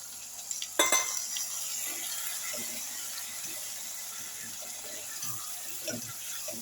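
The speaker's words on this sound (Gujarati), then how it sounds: "થોડું પાણી નાખીને હલાવશું." Water splashed into a spiced tindora (ivy gourd) curry in a pan, then soft stirring: a short pour near the start followed by quiet, faint scraping and gentle bubbling, with no one speaking.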